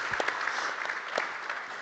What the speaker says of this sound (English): Round of applause for these great builders here.